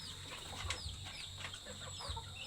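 Farm chickens cluck steadily while being fed, with several birds calling close by in a busy, overlapping chatter over faint background noise.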